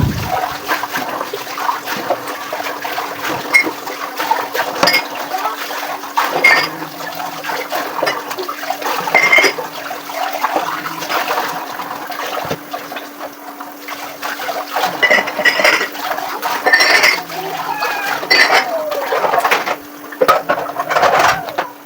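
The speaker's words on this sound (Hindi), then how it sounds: "ये नाश्ते के बर्तन थे जो कि इस टाइम पे धुल रहे थे।" Breakfast dishes are washed by hand in a kitchen sink, with running water splashing and trickling continuously and dishes faintly knocking throughout.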